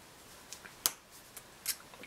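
A few sharp snips of a cutter biting through a length of thin copper wire, close and crisp, two louder cuts among softer clicks over quiet background.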